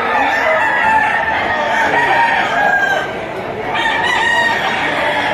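Chickens cluck and a rooster crows close by amid a noisy crowd of fowl, with steady background clamor throughout.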